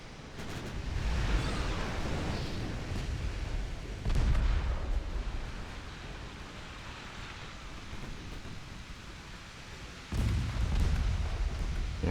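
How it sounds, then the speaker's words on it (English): A torpedo strikes a warship in the naval game Ultimate Admiral Dreadnoughts, a deep rumbling blast that swells over a constant roar of sea and gunfire and then fades, with another heavy boom bursting in near the end. "You actually scored a torpedo hit."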